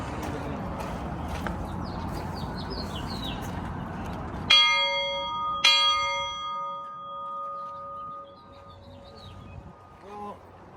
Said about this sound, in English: Please ring the bell.